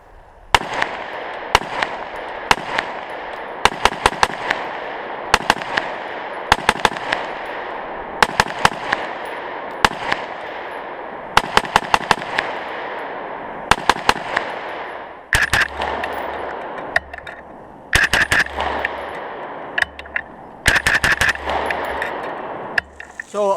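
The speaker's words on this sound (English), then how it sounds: "let's put some rounds down range" An FN SCAR 16 rifle fires loud, sharp shots outdoors at a range, singles and quick doubles spaced through the stretch, each with a ringing echo tail, then a denser burst near the end.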